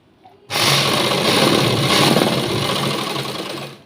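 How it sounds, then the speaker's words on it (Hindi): A sewing machine stitches a double seam along a blouse strip, whirring loudly and steadily after a brief quiet start, then running continuously until it stops near the end. "इस तरीके से डबल सिलाई लगा देंगे हम इसमें"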